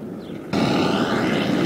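RC model plane landing outdoors, a steady loud engine and propeller drone that jumps suddenly in level midway and then holds close and constant.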